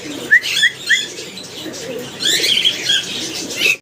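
Pigeons and other birds at a bird market give a few loud, short chirping calls close by, then a busier burst of overlapping calls with some rustling.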